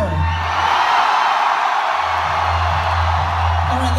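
A concert crowd at a live show in Dallas roars continuously, a dense wash of cheering and whoops with a steady low musical hum underneath, loud and sustained throughout.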